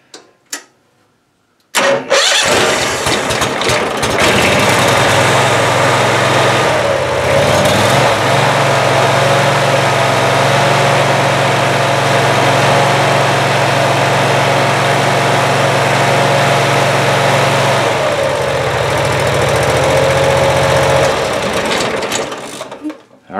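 A Briggs and Stratton 18hp Vanguard engine cranks and catches, then runs loud and steady at close range for about twenty seconds, with a change in pitch partway through before it shuts off.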